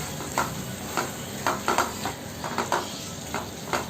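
Red chilli sauce stirred into a paneer and sweet corn kurma in a pan, with a low sizzle and a run of quick spoon clinks and scrapes against the metal, no one speaking.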